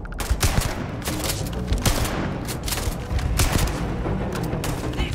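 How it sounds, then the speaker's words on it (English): Rapid gunfire from a shotgun in the Starfield video game, a dense run of sharp, loud blasts and thuds fired in quick succession through the whole stretch. "This shotgun has quite the range."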